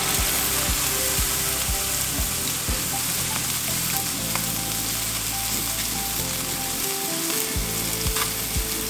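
Salmon fillets sear in a hot pan with a dense, steady crackling sizzle close by, broken now and then by quick scrapes and taps of a spatula, with no one talking.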